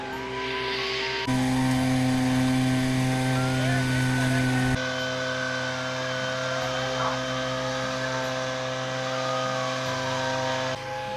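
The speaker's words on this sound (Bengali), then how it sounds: "এই চা কাটার মেশিন বের হয়েছে নতুন" A new tea leaf cutting machine, built like a paddy harvester, runs in a Bangladeshi village with a steady mechanical drone and tonal hum whose pitch and load shift partway through.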